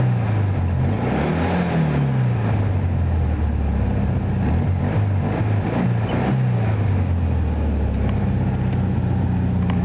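A rebuilt 1973 Volkswagen Super Beetle air-cooled engine runs close up with a loud, throaty exhaust, its low steady drone rising and falling through a few revs.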